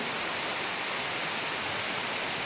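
Heavy morning rain pours down steadily, a dense, continuous hiss filling the whole moment with no gaps or voices.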